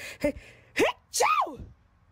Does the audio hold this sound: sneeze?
yes